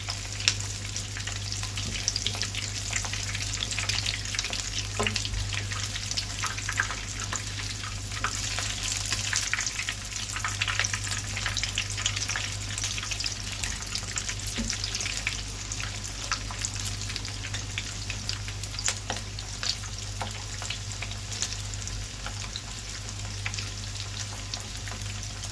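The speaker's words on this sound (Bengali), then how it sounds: "চিকেনগুলো ভেজে নিচ্ছি।" Chicken pieces fry in hot oil in a frying pan, a steady loud sizzle with crackle running unbroken throughout, with occasional stirring and no talk.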